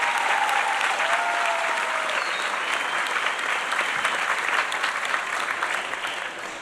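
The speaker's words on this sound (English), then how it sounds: "Let's have a round of applause for these guys." A graduation ceremony crowd gives a warm, sustained round of applause for its speakers, a dense wash of clapping that holds steady and then eases off slightly at the end.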